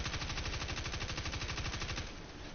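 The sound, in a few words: submachine gun firing in the video game Destiny 2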